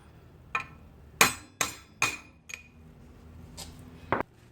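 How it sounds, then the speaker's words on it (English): A socket extension is hammered to tap a CV axle out of a BMW 318iS E30, several sharp metallic strikes in an uneven sequence, loud and close, with short ringing clinks between quieter pauses. "I used a socket extension to just hammer it out towards the inside of the car"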